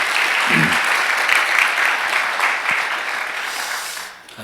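A church congregation applauds during a Wednesday worship service, a steady wash of clapping that holds for about four seconds and then thins out at the end.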